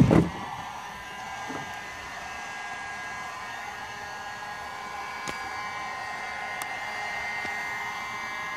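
A heat gun warms a sheet of plexiglass outdoors ahead of bending it into a boat windshield, blowing a steady, close whooshing drone at a constant level, with a faint click at the start and a few small ticks later.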